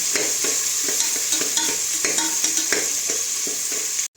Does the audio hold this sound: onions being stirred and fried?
yes